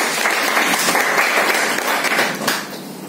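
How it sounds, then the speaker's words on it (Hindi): An audience at a motivational speech applauds in a dense, even burst of clapping lasting a few seconds, tapering slightly at the end. "तो तालियां भी चाहिए मैडम।"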